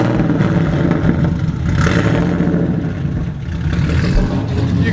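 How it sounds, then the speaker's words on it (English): A Porsche 964 engine runs loud and close, a dense, raspy roar that swells with a couple of throttle blips and holds a steady revving drone, heard alone without talk. "I'm gonna have him hop in real quick and start this thing so you guys can hear it"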